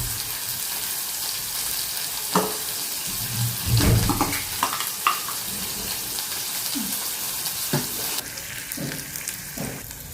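Onions frying in hot oil with fennel seeds and curry leaves, a steady close hiss of sizzling with a few brief clinks and stirring sounds scattered through it.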